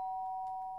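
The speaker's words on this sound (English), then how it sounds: "The doorbell? Does that mean someone's here?" A doorbell chimes in the Danganronpa 2 video game, a single clear electronic tone held steadily for under a second with nothing else over it.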